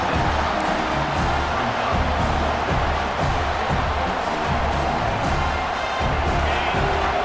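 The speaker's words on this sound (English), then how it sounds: "this crowd is coming to help the defense" Stadium crowd in College Football 26 roaring steadily and loudly as the defense faces fourth down, a dense continuous wall of cheering with no clear breaks.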